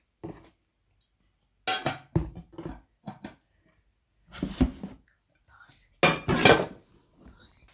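A pan from a five-piece cookware set is lifted out of its packaging, giving close clunks, clinks and crinkling in short bursts, with soft talk in between.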